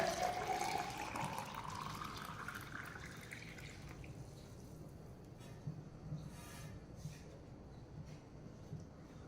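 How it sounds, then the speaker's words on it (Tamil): Hot water pours steadily into a glass, its pitch rising as the glass fills, then fading into quiet trickles and a few faint drips. "இப்போ இதை நம்ம இன்னொரு கிளாஸில் தண்ணியை மாற்றிக்கலாம்."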